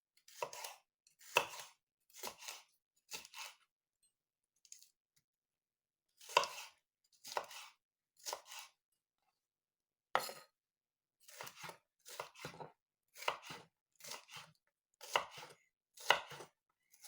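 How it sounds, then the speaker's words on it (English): Knife chopping garden bell peppers for canned salsa, heard as bursts of quick, crisp chops separated by short pauses, close and clear with no talk. "I'm just cutting up my bell peppers now."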